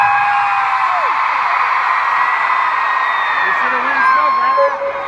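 A sustained, loud crowd of voices screaming and shrieking together, steady throughout with a few rising whoops near the end.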